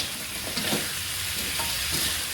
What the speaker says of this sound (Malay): Okey, kita tumiskan begini